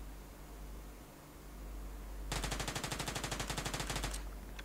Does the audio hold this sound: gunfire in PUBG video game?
yes